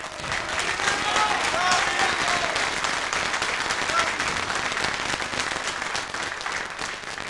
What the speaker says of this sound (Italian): Paolo Dio Maiuta e Gustavo Zito, un bellissimo applauso